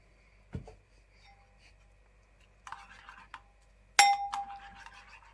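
A spoon mixing oats and oat milk in a bowl gives a few sparse, faint clinks against the dish, the last one sharper and ringing, amid near-silence.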